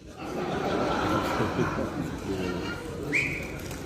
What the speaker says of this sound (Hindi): जूलॉजी वालों ने सीटी बजाई अभी